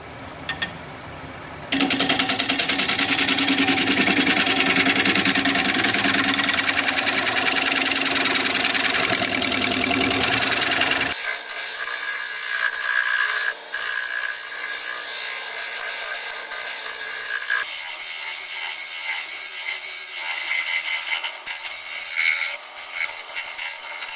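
A wood lathe turning a piece of wood while a scraper tool cuts it, a loud continuous whirring and grinding rasp that changes pitch and texture partway through as the cut lightens, with no speech.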